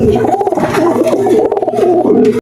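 Pet pigeons cooing close by, throaty rolling coos in overlapping phrases that pulse and repeat, loud and near, ending abruptly.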